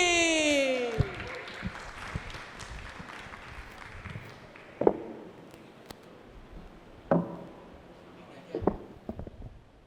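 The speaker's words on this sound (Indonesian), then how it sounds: "Kita kasih tepuk tangan buat Eki." Audience applause at a youth forum for a stand-up comedian, fairly faint and thin clapping from a crowd, with a few sharp louder claps standing out over a low murmur.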